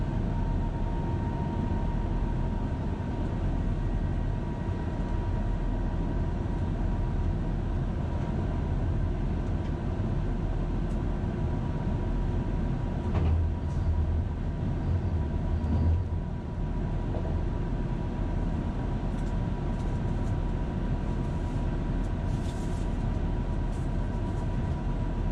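Train running through Torpo station on the line from Oslo to Ål, heard from inside as a steady low rolling rumble with a faint humming tone, no talking.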